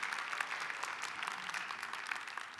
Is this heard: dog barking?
no